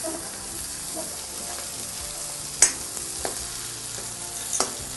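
Potatoes fried in a little oil for dum aloo, stirred in the pan. The frying hiss holds steady and fairly soft throughout, and a few sharp utensil scrapes and clicks cut through it.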